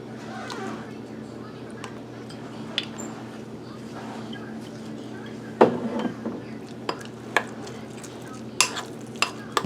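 Meatloaf mixture for a mac and cheese meatloaf worked together by hand in a bowl, soft squishing and stirring under a steady background hum, with a few sharp clinks and taps near the end.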